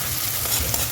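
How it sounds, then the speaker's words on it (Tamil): Mustard seeds are stirred in hot frying oil, giving a steady, close sizzle and popping crackle with no one talking during the second. "இப்போ வந்து கடுகு மிக்ஸ் பண்ணிடுறேன்"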